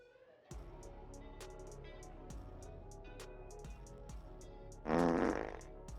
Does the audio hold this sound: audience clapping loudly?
no